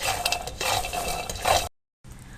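Peanuts dry-roasted over medium heat and stirred in a pan make a dense, close scraping rattle that continues, then stops abruptly before a fainter stretch, with no talking.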